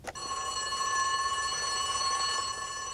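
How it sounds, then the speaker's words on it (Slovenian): An alarm bell at a cartoon fire station rings loud and sustained, a bright metallic continuous ringing that starts abruptly after a short knock and carries on steadily to the end, with no speech. "Hiter pritisk na alarmni zvonec."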